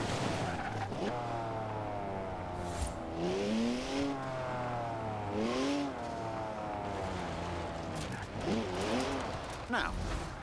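A 3-litre twin-turbo straight-six car in Forza Horizon 4 revs repeatedly through rising and falling gear pulls, with tire squeal, close and loud, while people talk over it.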